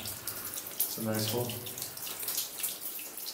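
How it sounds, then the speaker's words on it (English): Water trickles steadily inside the Big Horn mine, a soft continuous splash heard at close range while a person speaks briefly over it. "Look at trickling water."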